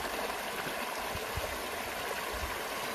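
River water running steadily along the bank of a riverside campground, a close, continuous broadband wash with faint gurgles, no voices over it.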